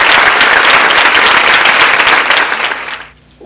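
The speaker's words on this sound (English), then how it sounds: "let's give them a big round of applause" Audience applause for Gift of Givers and ABSA donors at a Sinethemba High School donation event, dense steady clapping from a crowd for about three seconds before tapering off quickly.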